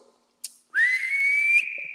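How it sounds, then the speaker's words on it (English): A single clear whistled note, rising quickly then held steady for about a second, loud and close, after a brief click. "so she's a whistler as well"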